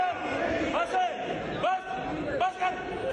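Lawmakers hoot at someone during a budget debate in Pakistan's National Assembly. Repeated loud, drawn-out vocal calls rise and fall over a murmuring crowd of voices.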